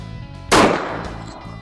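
A single loud, sharp revolver shot from a Smith & Wesson Combat Magnum firing a .357 Magnum load with a standard primer, bursting suddenly then ringing and decaying over the next second against a low background hum.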